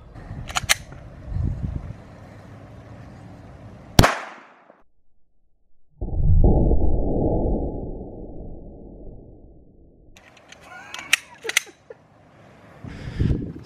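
A single sharp, loud 9mm full metal jacket 115-grain gunshot fired into a block of butter cracks out, followed by a moment of silence and then a sustained rumbling noise with scattered clicks and handling sounds.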